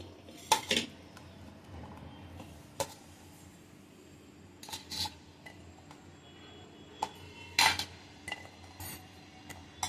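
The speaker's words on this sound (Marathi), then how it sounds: "आता सगळं हे पण धुवून घेणार आहोत" Cut bottle gourd, carrot and drumstick pieces are handled in a metal vessel for washing, giving scattered sharp clinks and clatters of metal against metal over a quiet background, close by.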